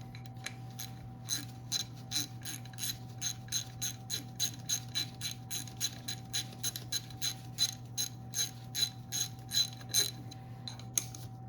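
A ratchet snugs down bolts on a 2007 Yamaha YZ85 dirt bike, giving a long run of rapid, evenly spaced clicks, close and fairly quiet, with a faint steady hum underneath.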